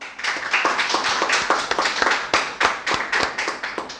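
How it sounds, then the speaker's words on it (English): Spoken English and IELTS students in a morning class clap together in a quick, steady burst of sharp, close hand claps that runs for a few seconds with no talk over it. "So a bit of clapping for all of you."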